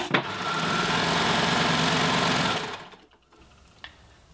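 An overlocker runs fast stitching a seam on a jersey dress, a steady loud whirring hum for about two and a half seconds that winds down and stops, followed by near silence and a faint click.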